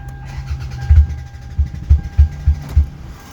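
The engine of a 2005 Toyota RAV4 that is hard to start and smoking turns over roughly, making a run of deep, uneven low thumps and stumbling pulses against a steady idle hum, close and without talk.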